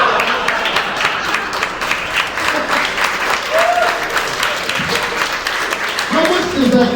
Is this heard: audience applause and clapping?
yes